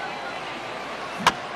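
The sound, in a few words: bat hitting baseball in MLB The Show 15 video game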